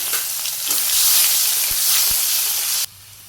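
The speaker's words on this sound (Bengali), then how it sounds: "এই তেলে আমি জিরে দিয়ে দিলাম পেঁয়াজ কেটে দিলাম" Cumin seeds and chopped onion sizzle in hot oil in a Bangladeshi village kitchen, a loud, steady, close frying hiss with a few soft knocks that stops abruptly near the end.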